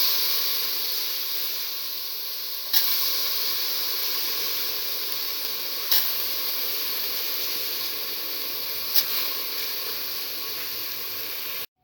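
Soaked mung beans hitting a hot cooking mixture in a pan, giving a constant close sizzling hiss with a few faint pops and ticks over about twelve seconds.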